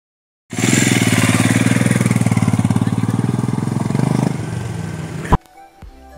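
Royal Enfield Himalayan adventure motorcycle ridden off-road, its single engine throbbing loud and steady close by for about five seconds, then easing off and cutting out sharply.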